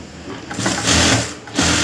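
A sewing machine stitching a blouse lining, giving a steady close whirring run that rises and eases briefly before starting again.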